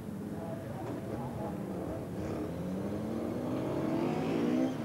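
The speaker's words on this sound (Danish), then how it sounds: "Og bilerne er nu ude på en opvarmningsomgang." Race cars on a warm-up lap at the 1992 Danish Grand Prix heat, engines droning and rising in pitch as they pass at a distance, heard as a continuous moderate rumble with a steady build.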